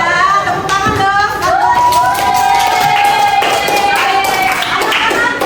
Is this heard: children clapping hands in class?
yes